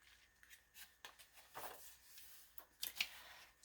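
Scissors cut through paper taken from a book during a craft flip-through, giving soft, close snipping and rustling strokes in irregular bursts, fairly quiet with no talking.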